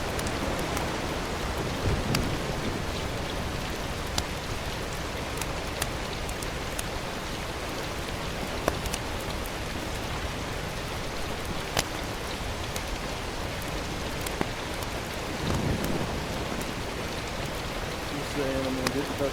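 Rain patters steadily during a thunderstorm while out fishing, with a dense hiss broken by scattered sharp drops and clicks and low rumbles swelling now and then.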